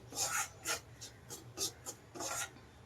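Semolina (rava) for modak is roasted and stirred in a pan, giving about seven quick, rhythmic scraping strokes, close and dry.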